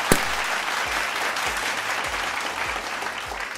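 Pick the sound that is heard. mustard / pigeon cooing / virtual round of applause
virtual round of applause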